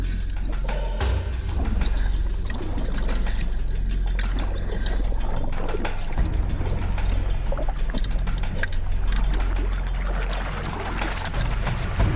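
A young male bonnethead shark splashes in the water, heard within a continuous wash of moving water and boat-like rumble, with choppy surges throughout and no voices.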